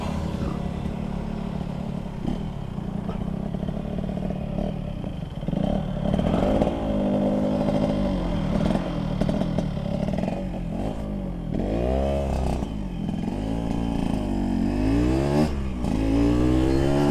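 A Kawasaki Ninja 150R with freshly replaced piston rings revs loudly up close, its engine climbing and falling through repeated throttle blips and sweeping pitch rises toward the end, with no voices over it.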